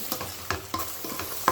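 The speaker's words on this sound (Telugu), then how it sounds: "తర్వాత దీనికి బాగా కలుపుకోవాలి" Gravy stirred in a frying pan, repeated scraping strokes of a spoon against the pan in a quick irregular rhythm over a soft sizzle, close and alone without talk.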